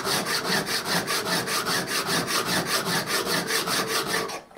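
A 70mm Japanese kanna plane blade has its bevel rubbed back and forth on a 600-grit Atoma diamond plate, making a steady, rhythmic scraping of close gritty strokes, about four per second, with no talk.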